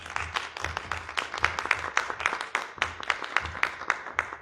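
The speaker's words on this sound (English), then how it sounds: "Could we please give them a round of applause for coming?" Applause from the audience at a township supervisor candidate forum in Harvey, Illinois: a steady rhythm of distinct, moderately close hand claps from a small crowd, with no talk over it.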